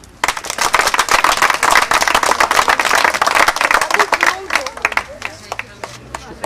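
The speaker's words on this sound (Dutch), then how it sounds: "Ik zou heel graag daarvoor een daad applaus willen hebben" Applause for volunteers, sponsors and board at the 51st Oldenzaal walking four-days event in 2012: a loud burst of many hands clapping that builds quickly, holds steady, then thins into scattered claps and fades.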